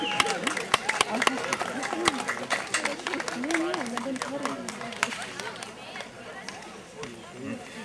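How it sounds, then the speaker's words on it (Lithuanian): Scattered applause at a 2011 summer festival in the small town of Krinčinas, many uneven hand claps ringing out over a busy crowd with voices murmuring throughout. "Aplodismentai, aplodismentai."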